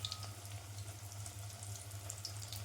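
Homemade fish fingers frying in hot oil, a steady close sizzle with crackling pops throughout, no talk.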